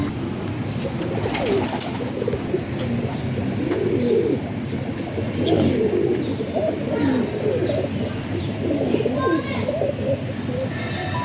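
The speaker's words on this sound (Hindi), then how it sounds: "ये है जी 10 नंबर कबूतर" Teddy pigeons kept in cages coo steadily at close range through a dense, constant background, with several birds overlapping and occasional chirps.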